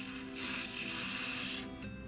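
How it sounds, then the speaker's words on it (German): Hairspray sprayed from an aerosol can onto a finger gives one steady, close hiss lasting just over a second, then cuts off abruptly. "da habe ich mir jetzt Haarspray drauf gesprüht"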